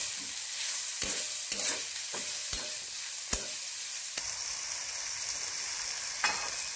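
Spices and red chili powder roasting on low heat in a black tawa-style pan, with a steady sizzle under a series of scraping stirs, close and clear with no talk.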